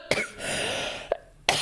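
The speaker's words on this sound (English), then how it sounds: "Sorry, I've got a really bad cough." Several sharp coughs close to the microphone, an initial cough followed by two more after short pauses, with a soft hum in between.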